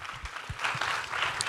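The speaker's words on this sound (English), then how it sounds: "I want to hear a louder clap on that." An audience at a panel discussion in India breaks into applause, a dense patter of many hands clapping that grows louder and fuller midway through, with a few low thumps underneath.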